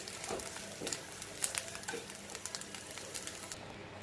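Roasted coconut stirred into a pumpkin and cowpea curry in a pot: soft scraping, sizzling and patter with irregular stirring clicks, fairly quiet and close.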